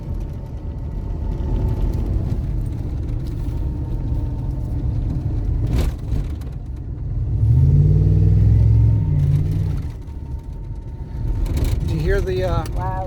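A 2000 Dodge Ram pickup rumbles along the road with a steady low engine drone, swelling louder and echoing for a couple of seconds midway, with brief speech near the end.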